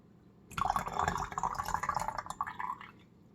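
Hot sauce runs from a pot into a pint-sized canning jar, a brief close liquid pour with a trickle that tapers off near the end.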